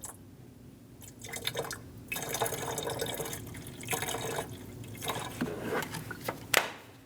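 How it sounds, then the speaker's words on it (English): Coolant poured into the overflow reservoir of a 2011-2026 Dodge Durango after a coolant temperature sensor replacement, a steady trickling liquid stream with drips and splashes, close by and moderately quiet, with no talking. "we're going to top this coolant off as needed for what we lost while we were replacing the"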